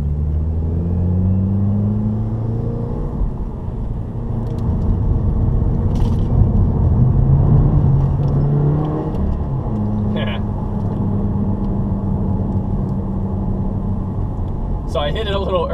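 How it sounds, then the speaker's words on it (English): A 2015 Subaru WRX accelerates hard in second gear through downtown Tacoma, its engine giving a loud, sustained rumbling drone that rises in pitch, heard from inside the car. "This is gonna be second gear."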